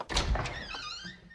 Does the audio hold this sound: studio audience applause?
no